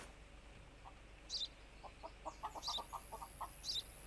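Chickens cluck in Contraband Police, a run of short, quick clucks in a loose cluster with a few higher squawks standing out, close and fairly soft against a quiet background.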